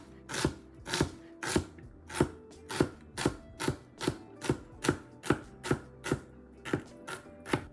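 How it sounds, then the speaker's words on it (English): A sharp knife chops celery on a cutting board with the blade tip held down, giving about fifteen crisp, evenly spaced cuts in a steady rhythm, close and clear with no talking. "you can literally just have the tip of the blade down and you can just go cut it down and feed the celery through"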